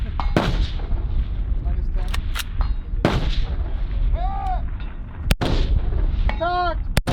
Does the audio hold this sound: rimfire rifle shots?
yes